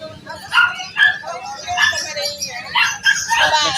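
Small dogs yip and bark at an open-air pet market while a vendor talks over them close by, the barks short and scattered through the chatter.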